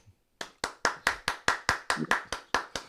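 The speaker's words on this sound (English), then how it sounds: "Let me applaud you." One person clapping hands on a morning talk show, eleven sharp, evenly spaced claps close to the microphone with no talk over them.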